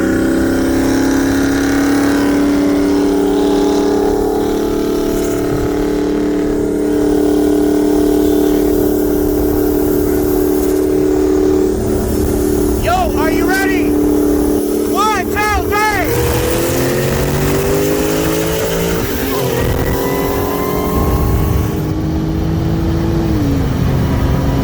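A 2013 Shelby GT500 with bolt-ons on 93 octane and a 2007 BMW 335i with a Pulsar GTX3584RS turbo on E85 race from 60 in third gear, a steady loud engine drone rising in pitch, with people talking and whooping over it.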